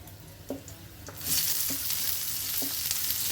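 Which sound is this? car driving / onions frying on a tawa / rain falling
onions frying on a tawa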